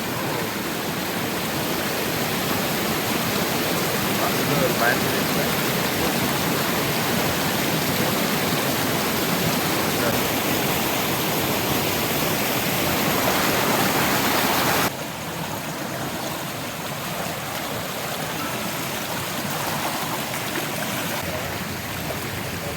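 Katalkada waterfall at Rajapur roars nearby at night, a dense continuous rush of falling water that stays loud and steady, dipping slightly in level partway through, with no voices over it.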